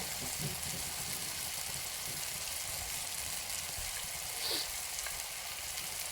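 Drumstick pods dropped into hot masala fry with a steady, dense sizzle that runs without a break from start to finish, close and fairly loud.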